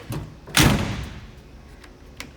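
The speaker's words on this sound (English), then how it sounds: "These little flipper up deals are neat when you open the door." On a rusty 1957 Chevy, the door's little flipper mechanism snaps up with one sharp metallic clack and a brief thud, followed by faint light ticks in a quiet space.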